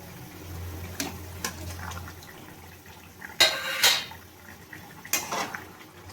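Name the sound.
rohu fish pieces added to the pot for curry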